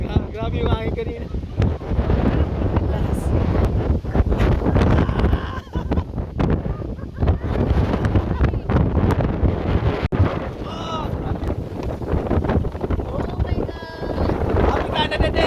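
Strong wind in Saskatoon on Canada Day buffets the microphone in a steady, loud roar, with gusty bursts throughout and voices faintly audible beneath it.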